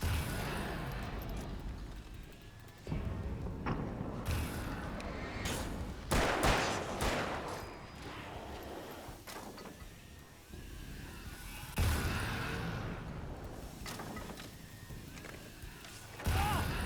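Bombs go off in the video game Alan Wake, a run of heavy booming blasts and crackling bursts recurring throughout, fairly loud and close, with no talk over them.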